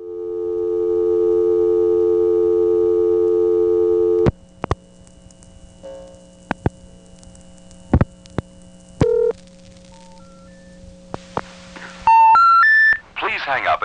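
Steady tones from an SP1 crossbar telephone switch in Lafayette, Georgia, recorded in the 1980s: a loud held multi-tone hum, then sparse clicks and beeps, ending in a rising series of bright signal tones.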